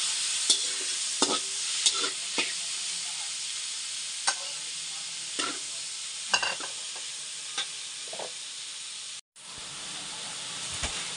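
Garlic, onion and squid sauté in a hot pan for palabok, a steady close sizzle broken by repeated sharp scrapes and clicks of a stirring utensil, with a brief cut in the sound near the end.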